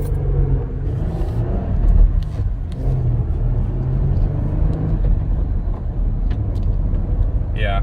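A manual-transmission Mojave Jeep Gladiator in Sport mode, its engine rumbling loudly from inside the cab as it pulls and accelerates, a steady low drone with road noise throughout.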